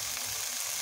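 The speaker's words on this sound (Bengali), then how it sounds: "পেঁয়াজটা হালকা ভেজে নিয়েছি, এখন এর মধ্যে আলু কুচানো দিয়ে দিচ্ছি।" Chopped potatoes frying in oil with lightly fried onion, a steady close hiss and crackle throughout the short moment, no voices.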